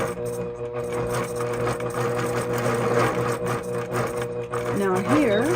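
Longarm quilting machine stitching couched thread along a ditch line, a steady mechanical whir with rhythmic needle chatter, close and continuous under a voice.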